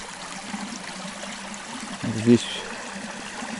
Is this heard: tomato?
no